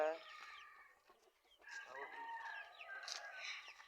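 Chickens cluck and crow close by, a rooster call at the start followed by a run of busy clucking.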